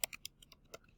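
Keystrokes on a computer keyboard while entering lettering for a plasma-cut sign: about six crisp, close clicks in an uneven typing rhythm, quiet and with no voices.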